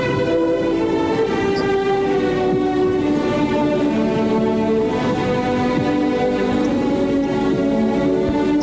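A special refugee train from Prague arrives at a station, rumbling steadily while a long, sustained horn-like tone sounds throughout, loud and close.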